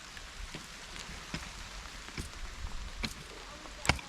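Steady light rain, the season's first in the Konkan, patters outdoors on leaves, with scattered drops hitting nearby surfaces and a few sharper taps standing out.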